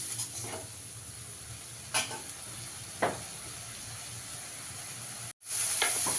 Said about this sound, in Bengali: দিয়ে এবার ভালো করে মশলাটাকে কষিয়ে নেব।